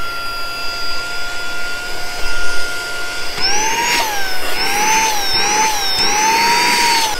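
A Saker 3 in 1 mini vacuum cleaner runs close and loud with a steady high whine. Partway through, the pitch wavers up and down as the suction load changes, and no one speaks.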